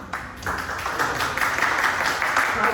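Steady audience applause at a 94th District Court candidate forum, a dense, even wash of many hands clapping that fills the room for a few seconds.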